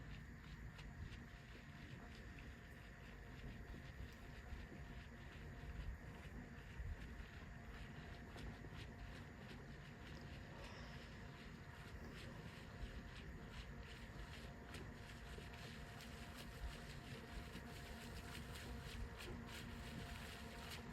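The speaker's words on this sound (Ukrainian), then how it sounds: "Кораблик вже повертається." A remote-controlled fishing bait boat motors back toward shore, a steady low hum over water and wind noise that holds evenly throughout, fairly faint and with no voices.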